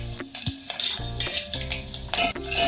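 Garlic, mustard seeds, cumin and urad dal frying in hot oil, a loud crackling hiss under repeated clanks and scrapes of a metal spoon against the pan.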